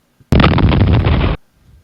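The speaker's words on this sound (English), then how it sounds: "I spent so much time animating that stupid explosion" Loud synthesized explosion from a homemade Bomberman-style game, one sustained roaring burst of about a second with a sharp start and abrupt cutoff, followed by faint low rumble.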